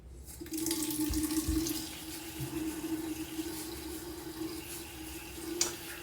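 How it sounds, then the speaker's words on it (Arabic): Warm tap water runs steadily into a sink for washing, a close, even rush with a soft splashing hiss that continues alone throughout. "بدنا نغسله بمي سخنة دافية."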